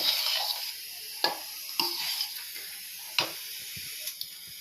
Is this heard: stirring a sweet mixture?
yes